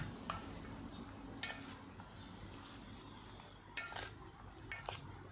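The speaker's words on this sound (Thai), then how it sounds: "ใส่ต้นหอมผักชีลงไปเลย คนคลุกเขาให้เข้ากันนะคะ" A utensil stirs and tosses spring onion and coriander through fermented pork salad in a bowl, making soft scraping and a few sharp clinks at irregular intervals, quiet and close.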